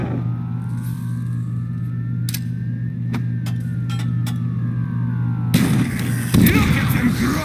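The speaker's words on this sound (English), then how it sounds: "I'm glad you fired your weapon, but you missed!" Weapon fire in Call of Duty: World at War zombies sounds as a few sharp, isolated shots over a steady low hum and a rising and falling tone. A burst of louder, noisy action follows near the end.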